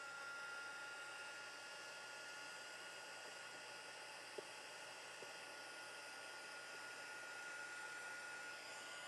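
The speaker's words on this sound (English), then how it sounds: "Let's hit that with the heat gun." A heat gun blows steadily over a still-wet watercolor Christmas card, a continuous broadband hiss that holds an even level throughout with no talk.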